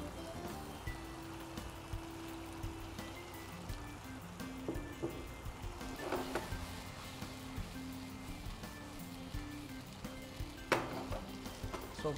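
Deep-fried fish added to a pepper-salt sauce sizzling in a pan, a steady, soft crackle and hiss with a few sharper pops and spatters along the way.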